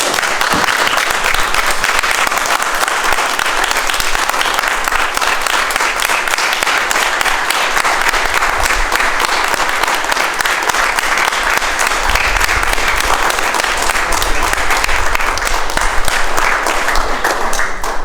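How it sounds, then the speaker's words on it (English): An audience at an Eagle Scout court of honor gives a long, loud round of applause, a dense, sustained clapping from many hands that stays steady for the whole stretch without talking. "Let's give him a big round of applause."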